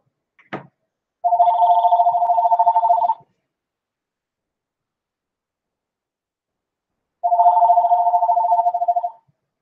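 A telephone rings in two long electronic bursts a few seconds apart, each a steady warbling tone lasting about two seconds, clear and fairly loud in an otherwise silent room, after a brief click at the start.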